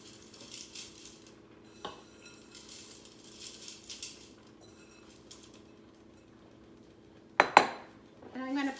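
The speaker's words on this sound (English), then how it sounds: "Now I'm going to take the spaghetti and I'm just going to drop it." Dry spaghetti strands dropped into an Instant Pot, making light scattered clicks and clinks against the metal insert, with a sharper rattling clatter near the end.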